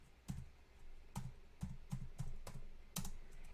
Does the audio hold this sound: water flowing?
no